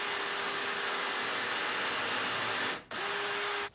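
A power drill bores holes in wood for a simple wooden planter, a loud steady high whine running close up, cutting out briefly near the end before spinning again and stopping.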